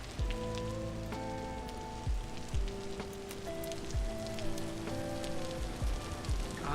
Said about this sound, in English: God, I love the rain in this game.